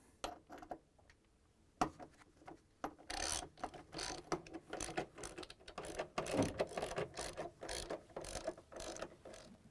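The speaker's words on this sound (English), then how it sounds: "now I'm going to use this 10mm socket wrench" A 10mm socket wrench ratchets while tightening the motor bolts on an LG/Kenmore washer, making close, quiet bursts of rapid clicking strokes with short pauses between them.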